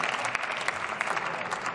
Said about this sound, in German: Das ist wirklich ein Applaus wert